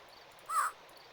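A single short crow caw in the video game King's Quest IV Retold, a clear, moderately loud call over a faint ambient hum.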